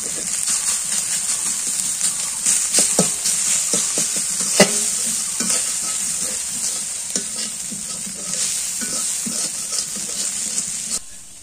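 Vegetables fry in a pan on a village kitchen stove in the morning, a loud steady sizzle broken by repeated scrapes and knocks of stirring throughout.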